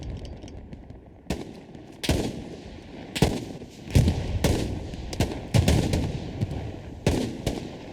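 Anti-tank gun shots in Hell Let Loose ring out as a series of sharp, booming reports at irregular intervals, about eight in all, over a steady hum of battlefield ambience.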